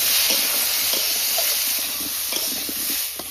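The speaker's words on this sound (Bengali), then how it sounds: "ফুলকপিটা সব ফার্স্ট একটু ভেজে নেব ভালো করে" Cauliflower fries in hot oil with salt and turmeric in a pan, a close, steady hiss of fine sizzling with light stirring clicks throughout.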